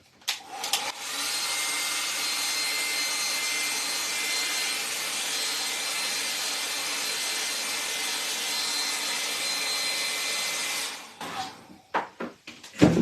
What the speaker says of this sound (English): One more hit on the hair dryer.